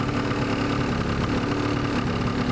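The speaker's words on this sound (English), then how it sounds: "Little 50cc engine humming right along." A 2004 Yamaha Zuma 50cc scooter idles steadily nearby, a continuous buzzing hum with a fine, even engine pulse and no talk over it.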